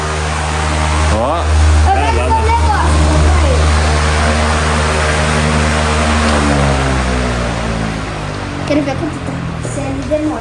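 An Aloha Breeze electric fan with metal blades runs steadily, giving a loud continuous motor drone and whirring hum with a shifting tone, while a person talks over it.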